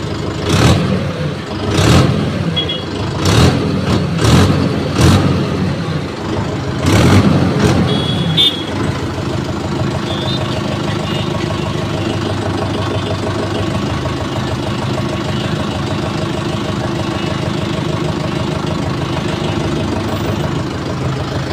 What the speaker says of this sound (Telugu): ఇప్పుడు బండి అయితే స్టార్ట్ చేస్తాను.